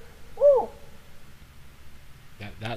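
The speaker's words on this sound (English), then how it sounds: "That's a really sick owl." An owl calls once with a single short hooting note, fairly near, and then faint rustling follows. Near the end a person speaks briefly.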